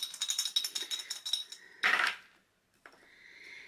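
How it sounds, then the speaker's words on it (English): Dice thrown for a tabletop board game rattle in a run of quick clicks, then a sharp clatter as they land, followed by a short silence and a faint scrape near the end. "So let's throw our dice."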